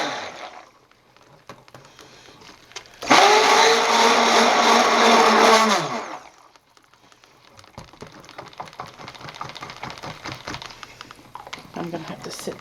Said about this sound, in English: Burp the blender, get the bubbles out.